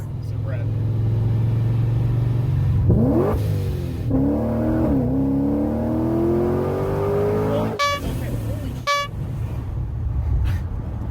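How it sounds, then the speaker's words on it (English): A supercharged BMW F80 M3 making about 630 rear-wheel horsepower idles with a deep rumble, then revs up with a rising whine, followed by two sharp chirping bursts like a blow-off valve. "my supercharger sounds like a turbo with the blow off valve"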